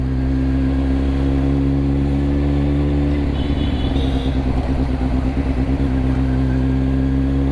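Kawasaki Z800 motorcycle engine idling with a steady low rumble, then a brief throttle blip midway; loud and near, with no talking.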